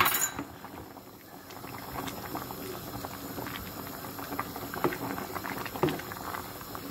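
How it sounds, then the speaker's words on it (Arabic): Chicken and olive tajine bubbling steadily in a pot, a continuous soft boiling patter with scattered pops and small splashes, close and moderately quiet. "هلا نخليوها يعني تغلي شوية ونطفيو عليها"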